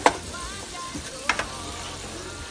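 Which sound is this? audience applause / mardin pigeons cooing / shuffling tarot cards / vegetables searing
vegetables searing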